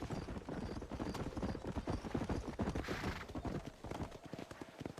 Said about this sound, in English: I love the horse detail in this game.